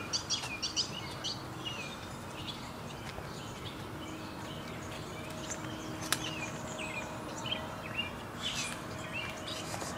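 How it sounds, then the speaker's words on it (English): Small birds chirp and tweet outside a window, scattered short calls over a soft steady background hum, moderately near with a few sharper peeps. "These are birds outside my window, so there it is right there."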